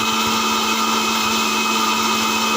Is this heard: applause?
no